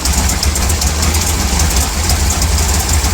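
A 1955 Chevy drag engine with a big camshaft idles in a steady, rough, loud rumble with a lumpy low-end pulse, close by and continuous throughout.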